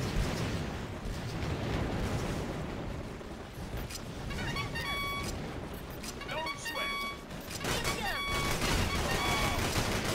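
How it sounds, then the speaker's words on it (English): In the video game Battalion Wars, gunships attack a tank amid a dense, continuous roar of battle: rumbling explosions and rapid gunfire, with brief high chirping tones cutting through the din. "that's the gunships attacking the tank."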